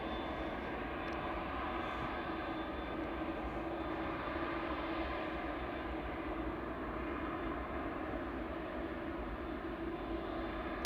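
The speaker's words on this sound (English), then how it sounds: "787-9 Dreamliner as well." Qatar Airways Boeing 787-9 Dreamliner jet on the move at Manchester Airport, a steady, loud, broadband engine roar that holds evenly throughout with no talk over it.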